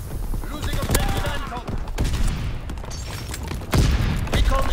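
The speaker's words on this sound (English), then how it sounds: "Random grenade is random." Grenade explosion in a video game firefight, with sharp booms and bursts of gunfire through the scene and a heavier blast near the end, under a person talking.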